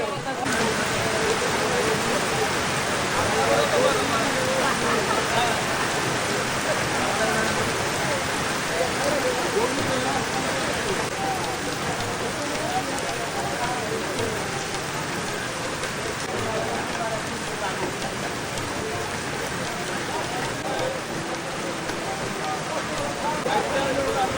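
Heavy rain pours down steadily and loudly without a break on a village market, drumming on surfaces, with faint voices barely audible underneath.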